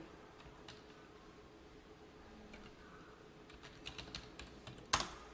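Computer keyboard typing in a quiet room, soft scattered key clicks that pick up toward the end with a sharper single keystroke, faint and close.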